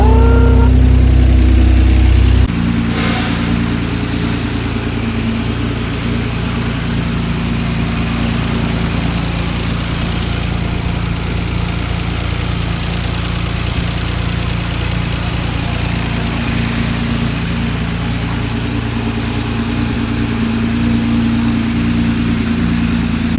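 A BMW E36 race car engine idling right after its first start, a loud, close, steady rumble that continues without a break and with no talking.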